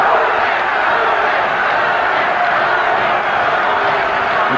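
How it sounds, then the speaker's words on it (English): A boxing arena crowd at the Hasim Rahman versus Lennox Lewis fight chants Rahman's name, a dense sustained roar of many voices filling the space at steady volume throughout. "The crowd is chanting Rahman, Rahman."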